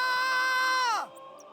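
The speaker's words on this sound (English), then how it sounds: "To scream real loud." A video game character lets out a loud, sustained scream that holds steady, then drops sharply in pitch and cuts off, alone and close.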